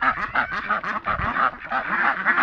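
White Pekin ducks quacking loudly in a rapid, continuous series of harsh, nasal calls from a close group, with no one speaking.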